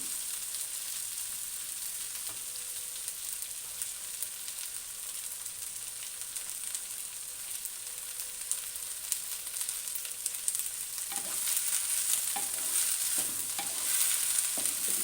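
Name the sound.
okra (bhindi) frying and being stirred in a pan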